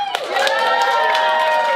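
Audience at the Helium Comedy Club in Philadelphia cheering and whooping loudly, many overlapping shouts and voices rising into a sustained, dense roar close up.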